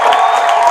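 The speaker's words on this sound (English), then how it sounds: "he is getting a loud ovation and applause from the fans here" Baseball fans at a USPBL game between the Eastside Diamond Hoppers and Birmingham Bloomfield Beavers roar and applaud after a bases-clearing triple, a steady, loud, dense crowd wash throughout the short moment.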